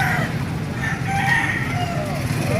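Gamefowl roosters crow at a farm, several drawn-out calls overlapping against steady background noise, with no talking.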